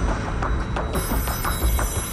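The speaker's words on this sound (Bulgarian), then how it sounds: "Ето звъни." A telephone rings for the banker on a TV game show, its repeated bell tones pulsing in a steady rhythm over a busy studio background, fairly loud and without talk.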